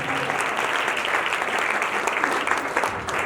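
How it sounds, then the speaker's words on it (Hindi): Loud, sustained applause from a church congregation, dense clapping that carries on throughout. "ताली बजाएंगे, जोरदार ताली देंगे"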